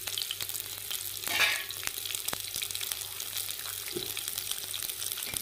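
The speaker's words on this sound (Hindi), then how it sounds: "और अब मैं इसको फ्राई कर दूँगा, हल्की हल्की फ्राई करनी है।" Sliced onion rings fry gently in hot ghee, a soft continuous sizzle with faint crackles and one brief stir or scrape, fairly quiet and close.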